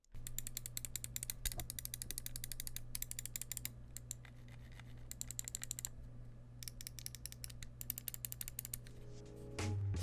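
Rapid, crisp clicking from the buttons of an HK Gaming Naos-M 59g gaming mouse, tapped in quick bursts and short pauses, close and fairly quiet, with no talking.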